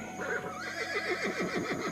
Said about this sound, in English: So Alexander sat on his horse